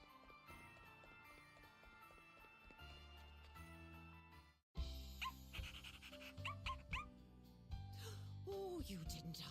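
A puppy in a video game yelps and whimpers in a few short, bright cries over steady game music, the calls clustering in the later half after a brief break in the music.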